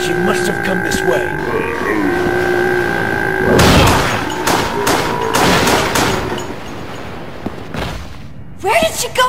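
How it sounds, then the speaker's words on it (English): Gunfire in the Wii game Resident Evil: The Darkside Chronicles, a few loud booming shots amid game music and ambience, with voices speaking in the scene. "A gunshot! Back there!"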